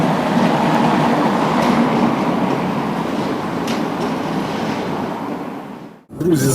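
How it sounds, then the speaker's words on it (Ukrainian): A Lviv tram rumbles along the street, a steady loud rolling roar with faint rattling that carries for several seconds, then abruptly drops away near the end. "трамвай."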